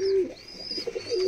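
Nepali imported yellow-eyed pigeon chicks give a few close, low coos in a short burst, with no voices around them.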